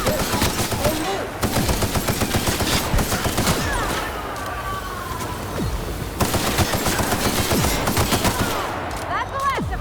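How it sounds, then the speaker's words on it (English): Dense automatic gunfire and rapid shots rattle through a sci-fi firefight in The Outer Worlds, continuous and loud over about ten seconds, with brief shouted voices and a short lull in the middle. "Open fire!"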